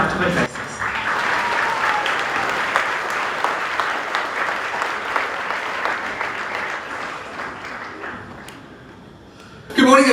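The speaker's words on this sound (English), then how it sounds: "I ask you to give him a round of applause as he comes out to address us." Sustained audience applause in a large venue at a school presentation day, a dense, even clatter of many hands that thins out toward the end before a voice starts speaking.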